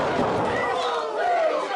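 Crowd noise at a live professional wrestling show, a steady roar of chatter and cheering from a packed audience filling the whole stretch with no pauses.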